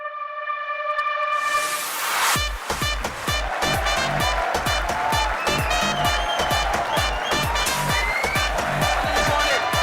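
A studio audience in a Pakistani talk show breaks into loud, sustained applause and cheering that welcomes Punjab law minister Rana Sanaullah, rising after a brief musical sting and continuing steadily to the end.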